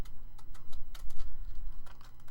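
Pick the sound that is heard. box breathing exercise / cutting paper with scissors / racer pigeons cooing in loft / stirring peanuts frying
cutting paper with scissors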